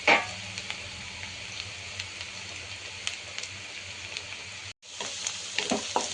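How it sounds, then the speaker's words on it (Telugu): Chopped onions frying in a pan for chicken samosa filling, a steady close sizzle with small crackles and pops and a brief stir, no talk. "ఈ విధంగా మనకి ఆనియన్ ఫ్రై చేసుకోవాలి"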